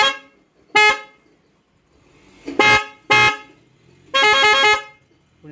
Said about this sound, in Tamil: இப்போ ஹார்ன் அடிக்கும்போது சவுண்டை பார்க்கலாம்.